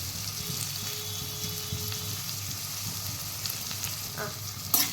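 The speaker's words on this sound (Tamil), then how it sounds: "இதை வந்து நல்லா வதக்கிக்கலாம்" Curry leaves sautéing in a pan for chicken gravy, a steady soft sizzle and crackle running throughout with faint stirring scrapes and a brief clatter near the end.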